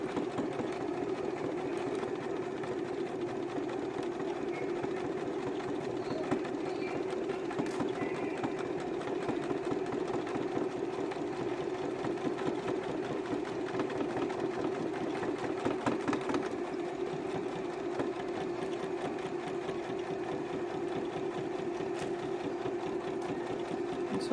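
A sewing machine stitches fabric for a body section of an original pattern, running steadily and continuously at close range with a constant mechanical whirr and no speech.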